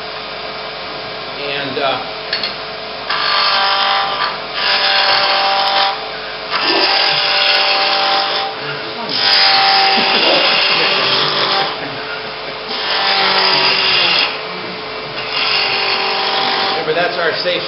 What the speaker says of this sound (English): So we'll make this round with the spindle gouge.